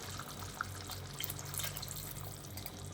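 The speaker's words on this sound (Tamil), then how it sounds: "இப்போ வந்து நம்ம புளி தண்ணியை வந்து" Tamarind water is poured through a strainer into a dry fish curry. The pour is faint and continuous and close by, with a few small drips over the steady trickle.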